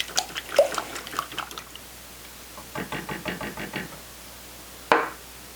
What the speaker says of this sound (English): Then I whisk them up really nicely here to create our scrambled egg mixture.